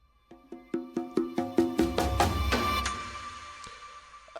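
Drum roll hits in an Afrobeats transition, a run of evenly spaced pitched strikes that speed up into a dense swelling roll, then fade into a lingering tail, loud and close with no voices.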